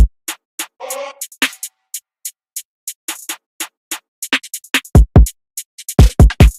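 Sparse clicky percussion ticks in a steady groove with a brief chopped vocal-like hit, then a simple bouncy kick drum pattern thumps in near the end, in an FL Studio beat.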